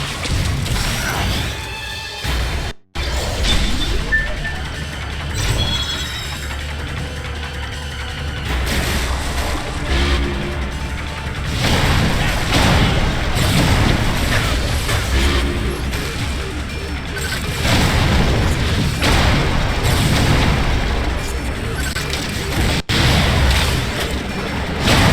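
Missile fire and explosions from the video game Metroid: Other M, a dense stretch of booms, crashes and mechanical clatter layered with game effects and music, loud and continuous with brief breaks.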